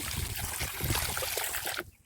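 Water from a hose runs steadily into a tub, a close, continuous splashing trickle that stops abruptly near the end, with no voices.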